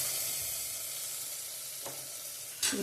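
Masala sizzling in hot oil in a pan for a Vidarbha-style brinjal and potato curry, a steady bright crackling hiss with a sudden louder burst of spitting near the end.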